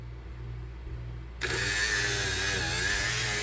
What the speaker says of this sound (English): And the antenna rises.